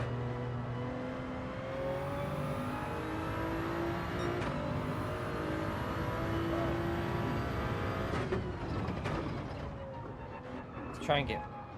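Race car engine in Gran Turismo 7 whines and revs continuously through laps, rising and falling with gear changes, with a brief crash-like burst near the end, under steady talking.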